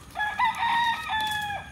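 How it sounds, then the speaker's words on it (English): A rooster crows loudly and close by, a drawn-out cock-a-doodle-doo with a brief break before the final stretched note. "Them roosters are cutting up, dude."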